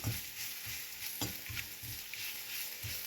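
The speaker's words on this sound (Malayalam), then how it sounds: "ഇനി നമുക്കതൊന്ന് ഇളക്കി കൊടുക്കാം" Turmeric, asafoetida and fenugreek powder are stirred in a pan for instant rasam, with soft rhythmic scrapes of a spoon repeating about every third of a second over a faint, low sizzle.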